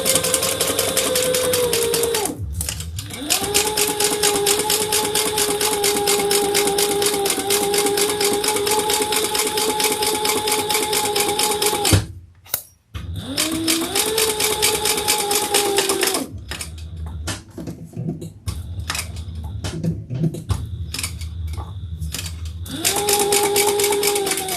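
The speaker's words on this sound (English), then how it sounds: "we're going to sew that together at the seam allowance in the pattern" Sewing machine stitching the seam of a crossbody bag in long, steady runs, broken by a couple of short pauses and a stretch of slower, uneven stitching before the motor picks up again.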